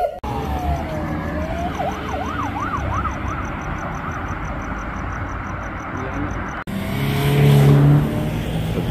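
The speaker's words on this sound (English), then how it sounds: "That's the sound of the police." A police siren wails in a rising and falling pattern over steady, loud road and traffic noise, then cuts off abruptly as the background shifts to a rumbling engine.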